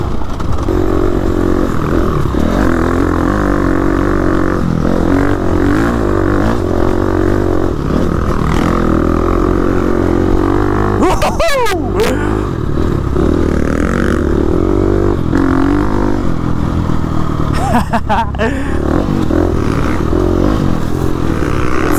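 An enduro dirt bike engine roars and revs loudly and steadily while climbing big hills, with brief scrapes and clatter over the continuous drone.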